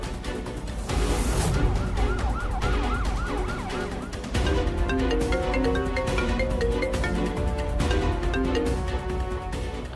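An ambulance siren wails in rising and falling sweeps, blended into loud, continuous dramatic music that fills the whole stretch without pause.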